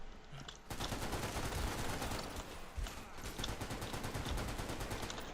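Rapid automatic gunfire in Military Conflict: Vietnam opens after a short quiet moment and keeps going as loud, dense bursts of shots through to the end.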